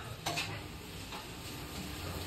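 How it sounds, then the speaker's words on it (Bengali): Beguni, battered eggplant slices, frying in hot oil in a pan gives a steady, close sizzle with a few sharp clinks of utensils near the start and no talk. "মাছ না, বেগুনি ভাজা চলছে।"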